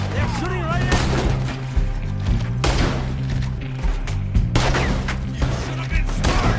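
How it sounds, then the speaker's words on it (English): Gunfire rings out during a Red Dead Redemption 2 shootout, several sharp cracks spread through the scene, mixed with game music and characters shouting. "They're shooting right at me!"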